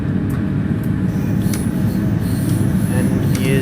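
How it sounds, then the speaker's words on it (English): Flange squeal from a DB BR612 diesel railcar rounding curves on the Tharandter Rampe in Train Sim World 2, heard as thin high-pitched squealing streaks over a steady, loud rumble of running gear. "there's yet more of that annoying flange squeal"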